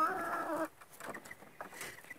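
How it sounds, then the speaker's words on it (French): Hens pecking up fallen grain cluck briefly and softly at the start, followed by faint scattered pecking and rustling. "les poules, si vous vous demandez ce qu'elles font là, elles ramassent tous les petits grains qui tombent"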